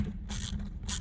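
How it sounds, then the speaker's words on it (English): A 10 mm tool and a 4 mm Allen key work a fender flare bracket bolt on a 2017+ Kawasaki Teryx 4, making a couple of short, close mechanical ratcheting bursts. "We'll take our 10 mil and our 4mm Allen key and"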